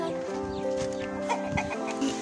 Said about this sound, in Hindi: ये भी देखे मुर्गी है